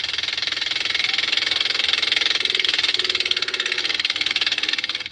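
Fishing boat engine during a chase at sea in the West Philippine Sea, a steady, loud mechanical chugging with a rapid, even pulse and a hissing roar, running continuously with no talk.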